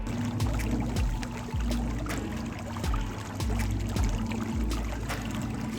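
Spring water wells up in a Florida ravine garden, a close, steady gurgle and trickle with soft repeated bubbling pulses and no voices.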